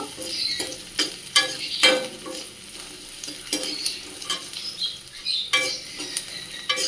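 Raw green papaya with chopped chillies stirred and frying in a pan, with close scraping and clinking of a utensil over a steady sizzle, coming in irregular bursts.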